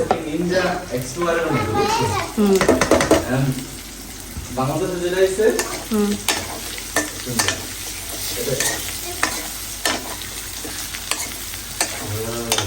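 Chicken stirred into onions in a hot pan sizzles continuously while a spatula scrapes and clacks in irregular strokes, close up, with a voice speaking over parts of it.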